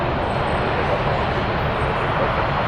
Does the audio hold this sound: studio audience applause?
no